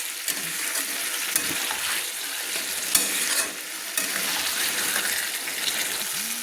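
Yam pieces with spices sauté in a pan, giving a continuous close sizzle and frying hiss broken by occasional stirring scrapes, with no voices.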